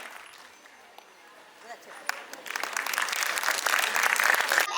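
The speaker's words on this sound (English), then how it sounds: "So please clap your hands, smile big, and enjoy every moment" An audience at a school annual day celebration breaks into applause, starting faint and scattered under a murmur of voices, then swelling into loud, dense clapping over the second half.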